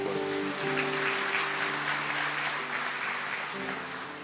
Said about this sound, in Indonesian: Yang percaya kasih tepuk tangan.